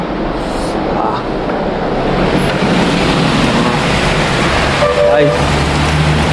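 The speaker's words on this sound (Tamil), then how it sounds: "பட்ட மழை பெய்யுது காய்ஸ், சரியான மழை." Heavy rain pours steadily outside as a dense, continuous hiss that stays loud and unbroken throughout, with a faint low rumble underneath.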